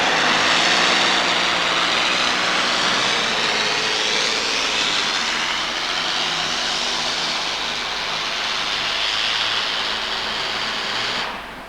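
A modified pulling tractor engine with a turbocharger at a 1989 truck and tractor pull in New Jersey, giving a loud, steady high-pitched roar and whine that holds for about eleven seconds, then cuts off sharply.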